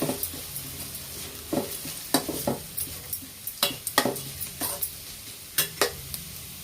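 Grated coconut for coriander chutney is stir-fried in a pan, giving repeated scraping stirs and clinks of the utensil over a soft sizzle. The strokes come in uneven bursts at close range.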